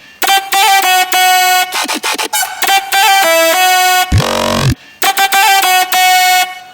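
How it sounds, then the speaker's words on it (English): Dubstep-style wobble and growl synths from a trap-flavoured remix drop, loud buzzy stabs in rapid choppy bursts with a short deep, sweeping growl in the middle and brief gaps between phrases. "let's take a listen with all the wobbles and growls and stuff"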